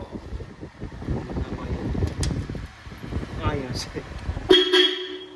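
A tractor horn blares in a steady, sustained toot near the end, following talk over engine rumble and wind noise.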